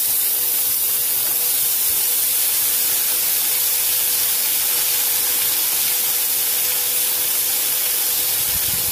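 Peppers and onions sizzle steadily in a pan while being cooked for a classic New Jersey hot dog sandwich, a continuous close hiss without a break and with no talking.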